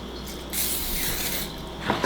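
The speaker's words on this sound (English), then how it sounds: "Spray the inside of there." Olive oil cooking spray hisses into a casserole dish held over a sink, one sustained spray of about a second, close and fairly soft, followed by a light clatter.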